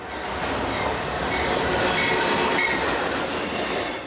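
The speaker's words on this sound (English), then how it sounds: "Here comes another freight train." A big orange freight train hauls a long line of colourful container-laden wagons past at close range, a steady loud rumble and rolling clatter of wheels on rails that holds throughout without a break.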